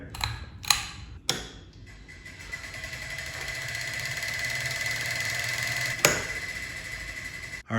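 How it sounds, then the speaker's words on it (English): A ceiling fan is switched on with its pull chain: a few sharp clicks, then a low motor hum that swells into a steady whir, with another click near the end. "Just pull the chain for the fan."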